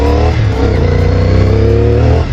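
A CF Moto 450 SR motorcycle engine pulling hard while riding uphill in second gear, a loud continuous rising drone with a rough buzzy edge, close and unbroken, no talking.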